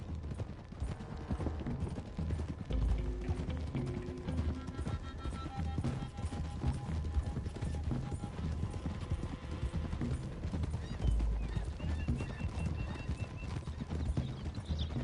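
Horses gallop along a road in the Red Dead video game, their hooves drumming in a steady, close clip-clop with an occasional whinny and faint mechanical clatter behind.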